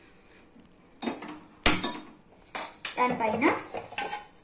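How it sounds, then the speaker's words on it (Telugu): A metal dosa pan (pen) set onto a stove, producing several sharp clanks and scraping clatters in quick succession, fairly close and loud, with a brief spoken word near the end. "ఒక పెనం పెట్టండి."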